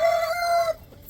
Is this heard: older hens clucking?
yes